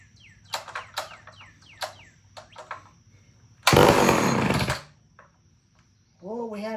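Homelite Super XL chainsaw, choke on, briefly catches and fires with a loud, rough burst of about a second before dying, preceded by a few faint clicks and chirps, with a voice rising at the end.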